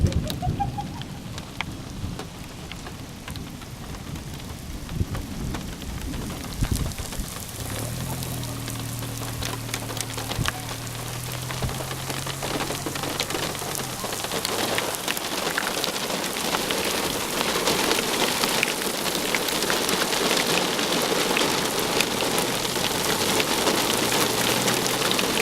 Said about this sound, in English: This is wacky rain patterns for sure.